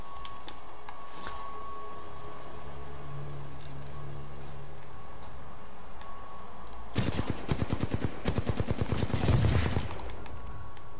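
Automatic weapon fire in the video game Titanfall 2, a loud rapid burst of repeated shots lasting several seconds after a quieter stretch of low hum and faint game sounds.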